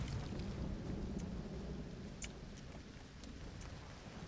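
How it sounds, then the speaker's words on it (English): A LEGO Fortnite thunderstorm with lightning gives steady rain hiss and low rumbling thunder, with a few sharp crackles standing out over the continuous downpour. "Oh, it's lightning."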